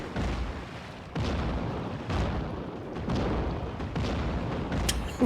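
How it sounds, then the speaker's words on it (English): A boat's cannon fires repeatedly in the Hugo the TV Troll retro video game, several heavy booming blasts at roughly one-second intervals, each with a rumbling tail, loud and without talk. "Whoa, they gave this guy a cannon."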